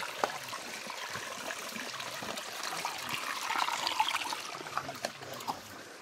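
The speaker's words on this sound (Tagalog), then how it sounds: "Yung tubig na yan ay nanggagaling dyan sa tuktok ng bundok na yan." Mountain spring water flowing out from under a rock, a faint, steady trickle and splash with small irregular drips, close by and alone.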